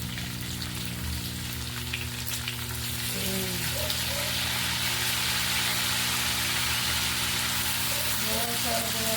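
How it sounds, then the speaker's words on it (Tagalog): Vinegar poured into a pan of sizzling adobo with potatoes, giving a steady, dense hiss of frying that swells slightly, with a low cooking hum underneath and brief speech partway through. "so lagyan natin ng vinegar"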